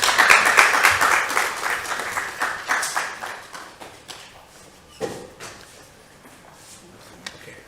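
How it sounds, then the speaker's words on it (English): Workshop audience applauding a speaker being welcomed to the stage, a dense burst of clapping that is loudest at the start and thins into scattered claps and taps, with a few isolated claps near the end. "Please, with a round of applause."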